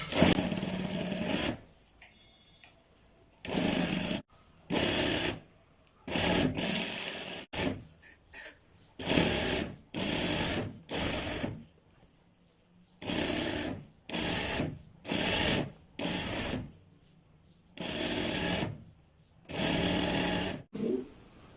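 A sewing machine stitches a placket strip onto a shirt in repeated bursts of fast whirring, each run lasting a second or two and separated by short quiet pauses.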